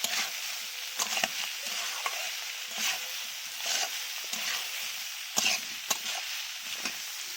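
Ingredients stir-frying in a generous amount of oil in a pan, with a steady sizzle broken by regular scraping and knocking strokes of the spatula against the pan.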